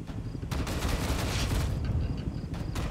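Dense gunfire rattles in the Tom Clancy's EndWar video game, a loud continuous burst of rapid shots with brief lulls, close and unbroken.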